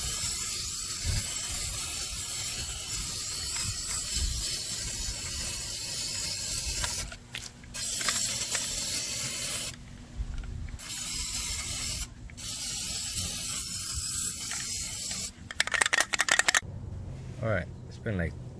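A spray can applying Plasti Dip to car rims gives close, steady hissing in long bursts, broken by brief pauses and a few quick sputtering sprays near the end.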